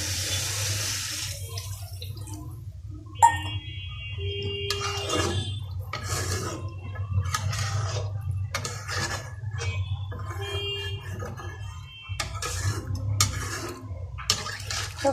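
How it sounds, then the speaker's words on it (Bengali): Water is poured into a pot of fish curry with ridge gourd and potatoes, a close gushing pour broken by light clinks of kitchen utensils over a low background hum. "তো পানিটা দিয়ে দিছি এখন"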